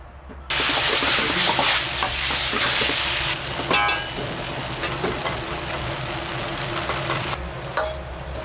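Pork and vegetables are stir-fried in a pan by sumo wrestlers cooking a stable meal, with a loud continuous sizzle and intermittent scraping of the utensil, close up.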